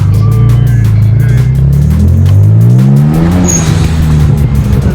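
A loud BMW 335i engine revs and drops with tire squeal and rushing intake noise, a sharp hiss of a fitted blow-off valve bursting out midway, close and heavy throughout.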